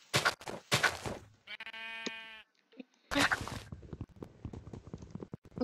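A sheep gives a clear, wavering bleat between bursts of loud, clattering movement and background noise.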